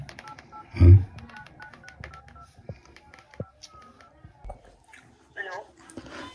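A phone keypad gives a run of short, quick dialing beeps close by, with a loud thump near the start, people talking, and a dog whimpering and yipping.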